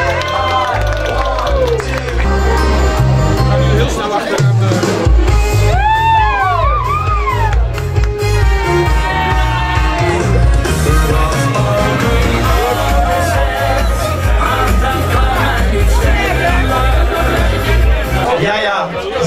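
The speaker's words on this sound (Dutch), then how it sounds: "Geef ze een applaus, Prins Davy, Antje van Perit." Crowd at a carnival prince's ball applauding and cheering, loud and continuous under brass band music with lively melodic lines, clapping and shouting mixed with festive playing throughout.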